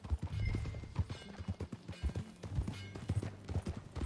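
Horse hooves clip-clop in a quick, uneven rhythm as a horse is ridden in the video game Red Dead Redemption 2, close and fairly quiet, with no voices over them.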